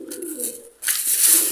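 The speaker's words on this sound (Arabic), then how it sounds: "ما شاء الله اكو طيور غربة هواي" Pigeons cooing in a loft or cage kept for pigeon catching, a soft low coo followed by a brighter fluttering burst, close by with no talking.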